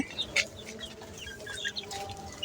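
Chicks clucking and peeping in short, scattered calls at moderate volume, a few bright chirps standing out over a steady low background.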